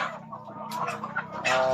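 Cemani chickens cluck close by, a steady run of short throaty calls with a louder burst near the end, no talking.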